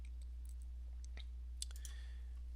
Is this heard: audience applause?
no